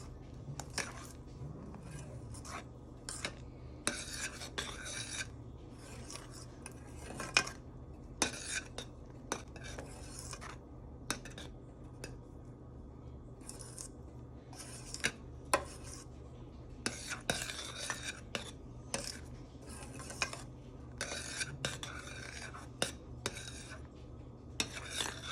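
A fork scrapes and taps against a pot while spreading and stirring kheer, giving repeated quiet metallic clinks and bursts of scraping in an irregular rhythm over a low background hum.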